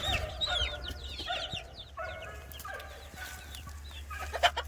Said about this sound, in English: Right here is going to be some meat birds.